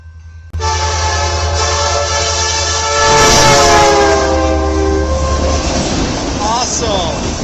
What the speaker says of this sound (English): Get the local train.